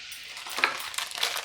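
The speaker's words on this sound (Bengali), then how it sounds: "এবার বাটারটা একটু গলে গেলে আমি এর মধ্যে ছোট চামচের 1 চামচ পরিমাণ গোটা জিরে দিয়ে দিচ্ছি" Whole white cumin seeds sizzle in melted butter in a pan over low heat, a soft, close crackling hiss that swells slightly with a few light pops, with no voices.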